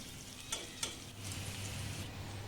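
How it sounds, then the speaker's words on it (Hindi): Onion, chili and fenugreek fry in hot oil for a tadka, a soft, quiet sizzle with two brief stirring clicks near the start and a low hum beneath. "तो सबसे पहले मैं इसमें तड़का लगाऊंगी प्याज, मिर्ची और मेथी का।"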